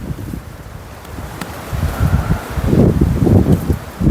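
Strong gale-force wind on an uninhabited island, buffeting the microphone with a low, rumbling roar that swells into heavier gusts in the second half.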